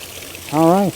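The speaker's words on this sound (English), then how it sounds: "Okay, so of course still at the waterfall." A waterfall on a forest trail at Tyler State Park, heard up close as a steady rushing hiss, with a brief voice cutting in near the end.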